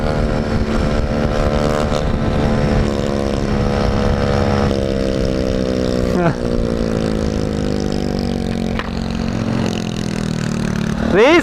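Small 50cc motorcycle engine running rough on bad fuel, a buzzy, uneven drone with wavering pitch and occasional sputtering dips, loud and close throughout with no clear talk over it.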